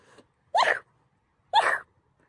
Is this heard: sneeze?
yes